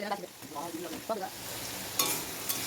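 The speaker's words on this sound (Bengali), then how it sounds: "গাজর ভাজা হয়ে গেছে বিনস ভাজছি" Beans and carrots frying in oil for fried rice, a soft crackling sizzle with stirring scrapes, fairly faint and brief, with a sharper burst of hiss near the end.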